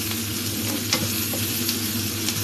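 Onions and spices sautéing in a frying pan, a steady close sizzle with occasional stirring scrapes, and no talk.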